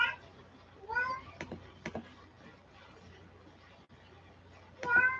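A cat meows several times during a casual live chat, its rising, tonal calls coming close and fairly loud in short bursts near the start and again at the end, over a low background hum with faint clicks.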